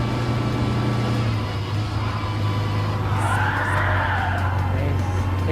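Volkswagen 1200 from 1966 racing in Gran Turismo Sport, a steady engine drone with a tire squeal rising and fading in the middle of a slide through a left turn.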